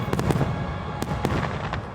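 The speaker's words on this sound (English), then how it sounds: "I think Epcot fireworks are best viewed like far away so you can see all of it." Fireworks burst over Epcot at Walt Disney World, heard from far away as a dense crackling rumble punctuated by sharper distant booms, steady throughout with no speech.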